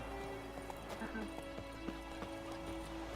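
Faint horse hoof clip-clops and soft snorts sound at a distance over a low, steady background hum, with no voices present, in The Witcher 3 video game.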